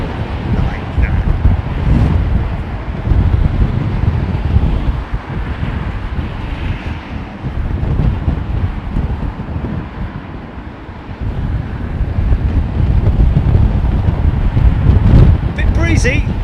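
Strong wind buffets the microphone at Heathrow Airport, a continuous rumbling roar with gusts that swell and ease, mixed with distant aircraft noise and some voices.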